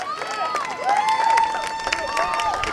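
Crowd cheering at a girls' high school flag football game between West Islip and Sayville, a steady roar of voices with whistle-like tones rising over it, heard from near the field.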